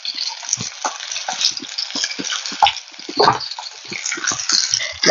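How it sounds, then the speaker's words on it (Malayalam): Shallots and garlic sauté in a pan in a home kitchen, a close hiss and crackle punctuated by frequent clattering stirs and scrapes, uneven and lively, with no speech. "ഉള്ളി വെളുത്തുള്ളിയൊക്കെ ഇട്ടിട്ട് ഇതാ നോക്കിയാൽ ഇതേപോലെ ഒന്ന് വഴറ്റി വന്നിട്ടുണ്ട്."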